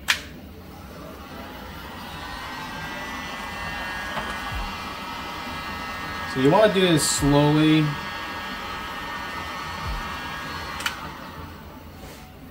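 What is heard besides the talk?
heat gun blowing hot air to melt 3D printer filament blob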